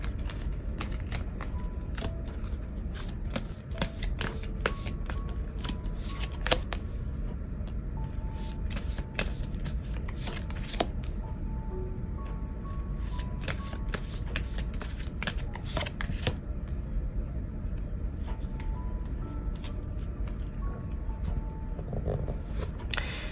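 Tarot cards are shuffled continuously at close range, with dense, rapid riffling and slapping that comes in uneven bursts over a soft background hum, with no voices.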